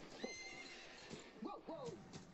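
Horse in a television show whinnying and snorting in several brief calls, with hoof clatter and other sounds of the scene around it, fairly faint, with voices talking over it.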